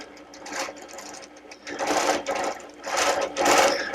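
A sewing machine stitches a quilt in a Flying Geese pattern, running in short bursts of rapid needle chatter that swell and ease, close and clear with no talking.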